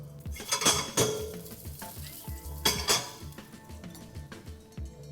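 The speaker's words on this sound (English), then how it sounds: "Our oil is hot, and I'm just gonna put in the onions." Onions dropped into hot oil in a pan for homemade burgers, giving a steady sizzle beneath loud clanks of pots, pans and cutlery being stirred and scraped, with several sharp metallic hits.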